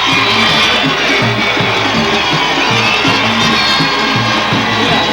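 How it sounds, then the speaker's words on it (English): Roaring crowd noise at a 1990 high school football playoff game as Fayette County's team takes the field, a dense continuous cheer with rhythmic chanting or band-like pulses, loud and sustained throughout. "You hear the reaction of the crowd across the way as Fayette's team takes the field"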